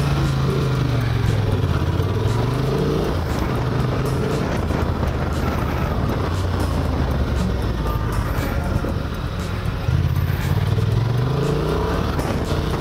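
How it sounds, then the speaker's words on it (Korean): A Honda Transalp 750's roughly 90-horsepower parallel-twin motorcycle engine runs steadily and up close, its rumble rising and falling through repeated revs over several seconds, with no voices. "병렬 2기통 90마력급 엔진이라고 하네요"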